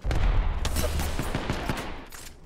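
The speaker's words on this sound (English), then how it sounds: "You're taking fire." Gunfire in the Apex Legends video game, a quick burst of rapid shots layered with a heavy low boom at the start, loud and close, fading toward the end.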